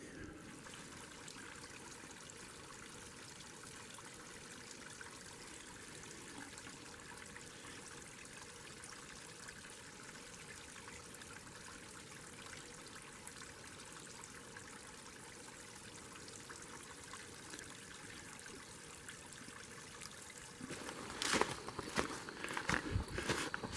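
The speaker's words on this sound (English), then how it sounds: "Right next to a little side stream I'm following up." A small side stream in Bankhead National Forest, Alabama trickles and burbles steadily in the background, with footsteps crunching nearby toward the end.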